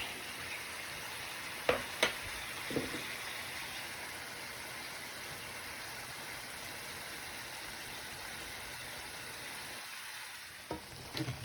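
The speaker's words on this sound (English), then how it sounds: "I'm gonna get this all mixed up, and then I'm going to turn the heat completely off after it's mixed" Sloppy joe mixture frying in a pan, a steady soft sizzle throughout with a few spoon scrapes and clicks as it is stirred, close and quiet with no talk.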